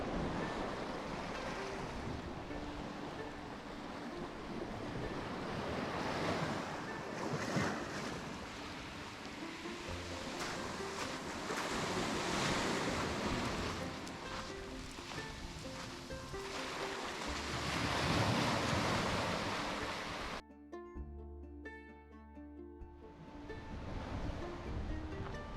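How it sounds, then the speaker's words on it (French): Ocean waves roll and break steadily on the winter coast of the Giens peninsula in the Var, with strong wind buffeting the microphone throughout and a brief lull near the end. "Les vagues sont ici plus grandes car Porquerolles ne protège ce bout de la presqu'île que moyennement."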